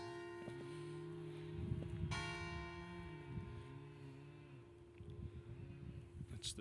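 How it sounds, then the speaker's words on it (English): A single church bell of Santa Maria della Vittoria in Italy tolls steadily in the open air, its long ringing tones sustained over low outdoor rumble and a brief louder clang partway through. "It's the bell for the area."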